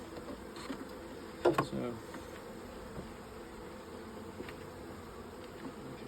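Buckfast honey bees hum in a steady, soft swarm drone around a hive in a garden while a beekeeper handles the colony, with brief knocks and a few quiet spoken words.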